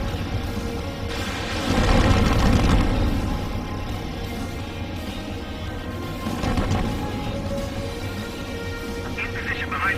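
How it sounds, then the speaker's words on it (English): Missile launch and explosion in the combat flight game Ace Combat 7, deep booming rushes that swell and fade over a steady jet drone, with radio chatter over it. "Spare 15, launching missile."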